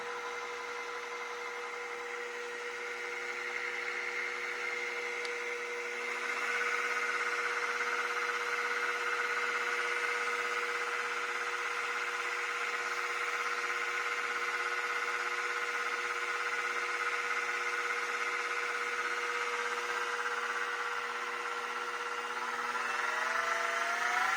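A mini milling machine fitted with a belt drive runs an end mill through a cut. It gives a steady, fairly quiet motor whine with a constant tonal hum that rises slightly partway through and continues without a break.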